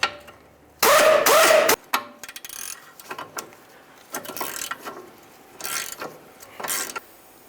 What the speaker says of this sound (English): I'm going to start off with the air gun just to break it free.